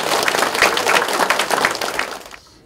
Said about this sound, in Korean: 우리 문재인 대표님께 여러분 뜨거운 박수 부탁드립니다